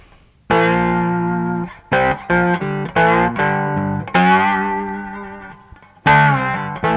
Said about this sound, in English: let's go for a bit of brass slide